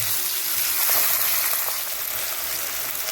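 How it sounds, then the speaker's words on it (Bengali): Tomatoes and vegetables frying in oil for vegetable chow mein, a steady close hiss of sizzling with faint stirring throughout, no voices. "এর মধ্যে আমরা টমেটোও দিয়ে দিচ্ছি। এবার এগুলোকে আমরা ভালো করে ভেজে নেব।"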